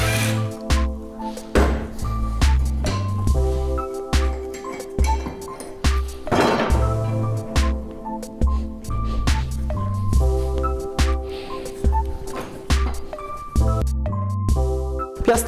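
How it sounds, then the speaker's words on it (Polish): Tools clink and knock on metal while a petrol lawnmower's blade, hub and belt are taken apart, with repeated short taps, scrapes and thuds under a steady low background drone. "aby teraz zdemontować silnik, trzeba zdemontować nóż, piastę, pasek, co teraz właśnie uczynię"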